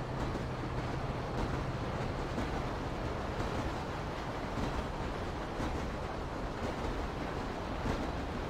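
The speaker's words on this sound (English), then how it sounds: "it looks like another train's coming" A train rolls past in GTA 5, giving a steady broadband rumble and rush that holds an even loudness throughout, with no distinct clacks and no voices.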